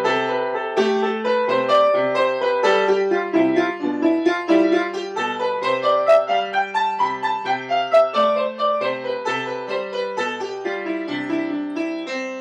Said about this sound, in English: just play the scale with random changes of direction using all adjacent notes